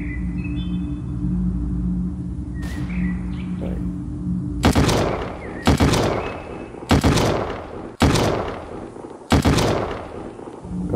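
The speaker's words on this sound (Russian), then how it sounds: "Где-то стреляет." Heavy gunfire in the VR battle royale Stand Out, arriving as five loud, sharp booming shots spaced about a second apart after a quieter ambient stretch with faint distant noises.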